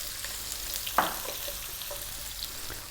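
A cup of onion drops into hot seeded oil for a vegan mushroom potato curry, giving one sharp splash of sizzle followed by a steady close frying crackle, with no one talking.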